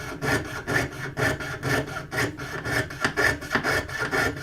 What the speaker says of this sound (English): here we are, my first one sawing. It does feel a little different than what I am used to.